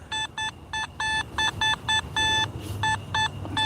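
A metal detector sweeps over a buried target during a night-time coin hunt, giving a dozen short electronic beeps in an uneven rhythm, with some tones held longer, clear over faint background noise.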